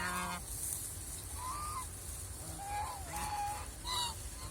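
Crested white ducks on a farm give a few short, faint honking calls spaced over a few seconds, heard at a distance over a soft background hum.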